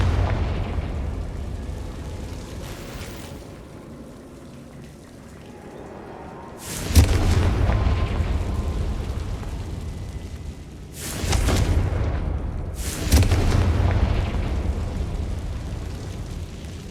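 Confringo spell explosions in Hogwarts Legacy: three loud, booming fiery blasts, each a sharp burst that rolls off into a long rumbling decay, spaced several seconds apart over quiet game ambience.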